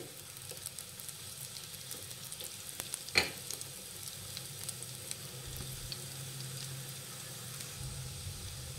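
Kothimbir vadi pieces fry in oil over a medium gas flame, giving a quiet, steady sizzle with light crackles, one brief sharp clink, and a low hum beneath.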